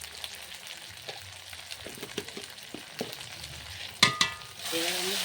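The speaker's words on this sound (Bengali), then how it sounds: "এবার আমি ভালো করে কষিয়ে নেব।" Spices and salt with turmeric being stir-fried for ghugni in a pan: a soft steady sizzle with repeated scraping strokes of a spatula, a couple of sharper clanks near the end, then the frying swells louder.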